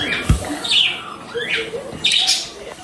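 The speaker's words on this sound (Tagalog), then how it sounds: "Ang ingay ng mga ibon namin." Pet birds chirp and squawk noisily nearby in several sharp bursts, with no talk in between.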